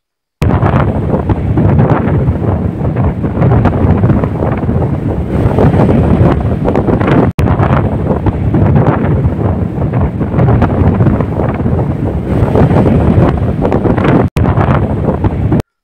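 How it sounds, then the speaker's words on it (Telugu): Strong coastal wind on a beach roars and buffets continuously, with heavy gusting rumble and no voices, broken only by a couple of brief cuts. "ఆ గాలి సౌండ్స్ ఎట్లున్నాయో మీరు కూడా ఒకసారి వినండి"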